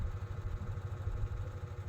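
Neighbours' motor engines run at a distance, a faint, steady mid-pitched putter with a quick pulsing rhythm and no voices.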